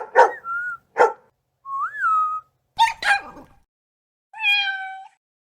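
Pet-store animal sounds: short barks and yelps from puppies alternate with rising, wavering kitten meows and a bright whistle-like chirp, each call close and clear, separated by silent gaps.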